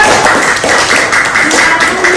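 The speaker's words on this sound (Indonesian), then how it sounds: "tepuk tangan dulu buat Go is." Children in a classroom clap their hands together, a short burst of brisk, steady clapping that sounds close and fairly loud, with faint voices underneath.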